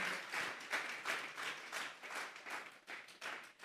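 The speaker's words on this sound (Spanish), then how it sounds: "Vamos a darle una ofrenda de palmas a Dios en esta hora." A church congregation claps as an offering to God during a sermon, a faint, fairly distant applause with pulsing bursts of hand claps throughout.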